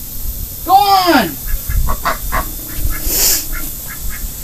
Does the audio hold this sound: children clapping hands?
no